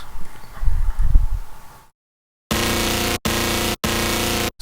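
A heavy, distorted-sounding 808 bass from a Warfell sample pack, dry with no effects, hits in three loud sustained blocks with sharp cutoffs, after a brief rustling, thumping passage and a moment of silence.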